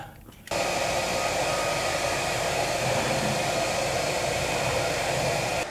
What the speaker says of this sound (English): this is a hairdryer, and we just blow hot air inside the bin